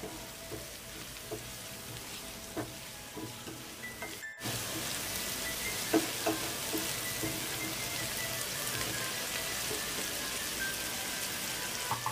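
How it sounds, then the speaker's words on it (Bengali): Ground turmeric, cumin, Kashmiri chili and garam masala fry in a pan for a dhaba-style paneer masala, a soft, even, rain-like sizzle with a few faint clicks and a brief gap before it resumes, no talk. "মশলাগুলো বেশ ভালোভাবেই কষানো হয়ে গেছে।"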